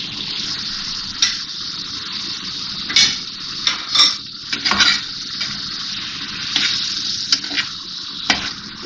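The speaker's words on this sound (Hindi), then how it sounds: "अब ये डाल के मैं इसको थोड़ा सा भूनूंगी।" Chicken fries in a yogurt mixture seasoned with tikka spices, Lahore street-food style, with a loud continuous sizzle broken by repeated scraping stirs and bursts of spitting, close and alone without talk.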